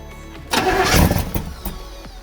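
A rebuilt Small Block Chevy engine cranks briefly, then catches with a loud, close roar that runs rough for about a second before settling and fading.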